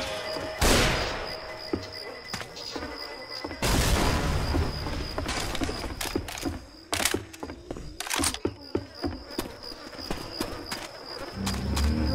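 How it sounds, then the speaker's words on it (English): A pipe bomb detonates in the Left 4 Dead 2 video game, setting off a loud burst of blasts amid rapid gunfire. Sharp cracks and booms repeat throughout, with a big explosion near the middle. "Reloading. Pipe bomb out."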